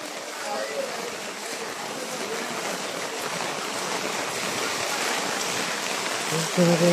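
Heavy rain pouring onto a flooding road in Feni, a steady broad hiss of falling water that holds evenly throughout, with a brief clatter near the end.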